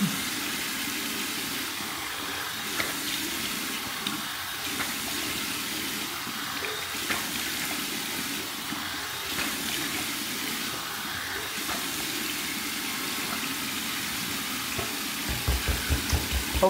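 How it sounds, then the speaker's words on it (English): Warm tap water runs steadily into a sink for a face rinse after shaving, a continuous close hiss with faint splashes and a few handling knocks near the end. "Here's my warm water rinse to get that little extra slickness that might be there."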